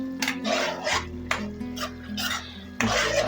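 Aloo dum with garam masala and kasuri methi gets stirred in a pot: rasping, scraping strokes of a spoon against the metal come in bursts over a low background hum, with a faint sizzle.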